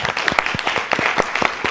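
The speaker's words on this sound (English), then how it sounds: "And applause are due here." An audience applauds at the opening of a student conference, with dense, steady clapping close by and no talk over it.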